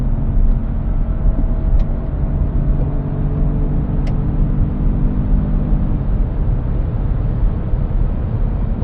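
A 2025 Peugeot 5008 Hybrid with a 136 HP engine and six-speed e-DCS gearbox accelerates hard in sport mode, heard from inside as a loud, steady engine drone that rises briefly and then levels into a continuous road roar.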